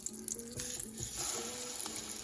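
Soft crackling sizzle of French toast on a Ninja Foodi Pro XL electric griddle, with faint tonal hum underneath, short and close.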